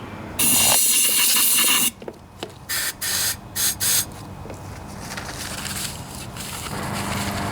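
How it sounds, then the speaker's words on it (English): Compressed air blasts into an emptied gas tank from a newer Yard Machines lawnmower, starting as a loud, steady hiss lasting over a second, then breaking into several short, sharp bursts before a softer, lingering rush of air. "I just blow some compressed air in there and all the stuff comes flying out"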